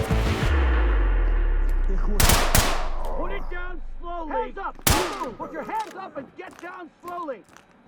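Light machine gun fire in an SCP video game, heard as a couple of loud, sharp bursts, the first near the start and another midway, with someone talking over and between them.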